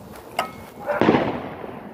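A large firecracker or fireworks blast goes off outdoors on Christmas Eve, one sharp pop followed by a louder booming burst that rolls away, with a voice audible in the background.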